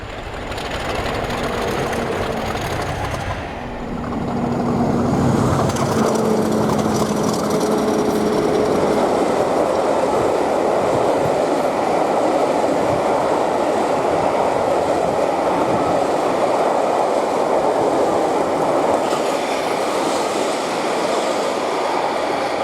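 Two Class 50 diesel locomotives, 50007 Hercules and 50049 Defiance, run past gasworks sidings at Hollycombe on the approach to Paignton, a loud, steady rumble of engines and rolling wagons that swells after a few seconds and holds.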